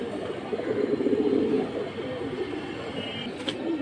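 Beji pigeons cooing close by, a steady low throaty coo that swells and fades over a soft background hum, no talk.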